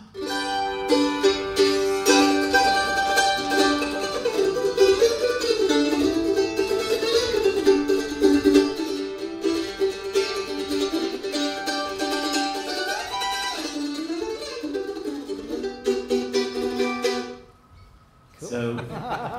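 A 1923 Lloyd Loar F5 mandolin rings out in bluegrass picking, bright driving tremolo and chop runs played loudly and continuously, ending with a brief pause and a final strum.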